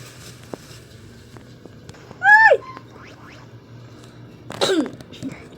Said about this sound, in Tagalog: Sorry, inuubo ako.